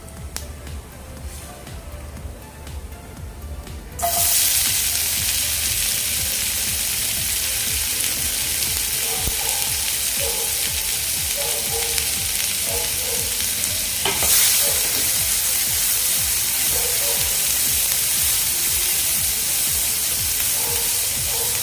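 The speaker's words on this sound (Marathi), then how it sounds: "कांदा आपण व्यवस्थित असा फ्राय करून घेऊया" Onion and curry leaves frying in a pan for an egg tawa masala, a steady loud sizzle and hiss that jumps up when they go in, with scraping stirring strokes throughout and no voices.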